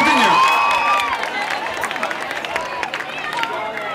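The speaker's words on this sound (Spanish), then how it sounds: "Gran aplauso para Oscar Nadal, a los teclados" A concert crowd at an outdoor show in Albal, Valencia, claps and cheers for a band member, dense applause with whistles and shouts, a loud burst at first, then settling into steady clapping as the noise carries on.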